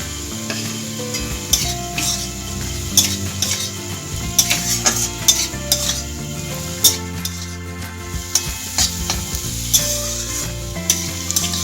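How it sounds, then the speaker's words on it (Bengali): Fried soya chunks being stir-fried with turmeric and spices in a pan for homemade veg chowmein: steady sizzling with repeated scraping and clinking of a spatula against metal, close and busy, no talk. "এরপর দিয়ে দিচ্ছি ভেজে রাখা সোয়াবিন"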